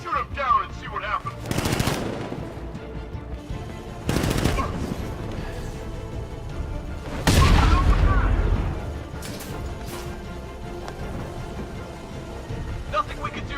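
Bursts of gunfire in the video game Batman: Arkham Knight, several loud blasts spaced a few seconds apart over a rumbling game background, with voices talking between them.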